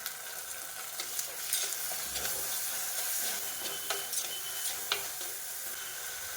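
Onion with ginger, garlic and green chilli paste sizzles in a hot pan for a fish curry, giving a steady, close frying hiss with scattered crackles and stirring scrapes throughout.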